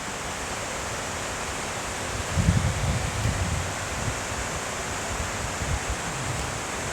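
Steady broadband rush of a waterfall on the Dalälven river, a constant hiss with wind gusting across the microphone in low rumbles partway through.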